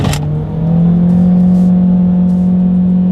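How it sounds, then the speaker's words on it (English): The engine of a 2020 Honda HR-V accelerates hard from a rolling start. A loud, sustained drone holds a steady pitch and builds in strength just after a brief dip at the start. No talking is heard. "a lot of engine noise when I hit the gas there"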